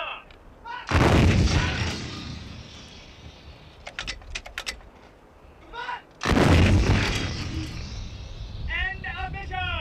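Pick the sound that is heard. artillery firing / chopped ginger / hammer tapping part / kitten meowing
artillery firing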